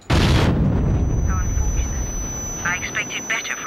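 Gunfire in the video game GoldenEye 007, a loud blast at the start followed by a rumbling burst and lighter scattered pops, with talk running over it.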